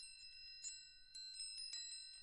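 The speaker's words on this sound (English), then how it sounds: "Wind chimes." Metal chimes ring softly in sparse overlapping strikes, each leaving a clear sustained tone that lingers, faint and with no voices.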